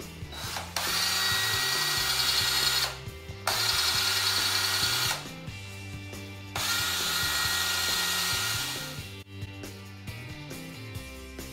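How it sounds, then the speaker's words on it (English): A power drill whirs loudly as it bores a hole into an end cap, running in several bursts with short pauses and shifts in pitch between them. "you're going to need to drill a hole into your end cap"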